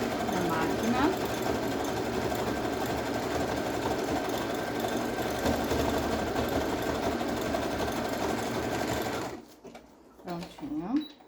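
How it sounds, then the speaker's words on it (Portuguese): A sewing machine runs continuously, sewing a zigzag stitch on panties, a close rapid mechanical whirring that stops near the end, followed by brief speech. "Eu sobreponho também um pouquinho do ponto zigue-zague na máquina."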